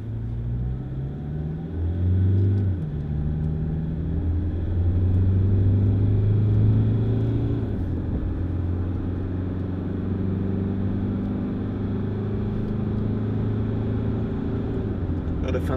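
A Toyota Land Cruiser 3.0 D-4D diesel SUV drives and accelerates, its low engine drone climbing steadily in pitch through the run over a constant road rumble. The sound stays close and continuous.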